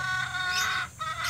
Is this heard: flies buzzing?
no